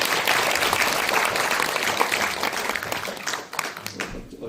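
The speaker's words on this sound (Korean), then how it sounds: "박수로 모시겠습니다" Lecture-hall audience welcoming a professor with applause, many hands clapping in a thick, loud burst that thins and fades toward the end.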